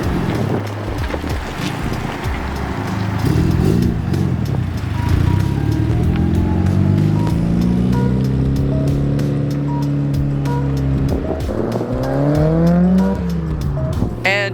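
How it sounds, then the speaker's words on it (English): A sold Mitsubishi Evo rolls out and drives away, its engine droning steadily with rising and falling revs over wind noise, the sound staying fairly loud and close throughout. "we're gonna film this car rolling out"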